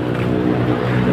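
A 2012 Nissan Navara engine with a faulty turbocharger revs during an acceleration test, giving a loud, steady, close-up engine roar over a short moment.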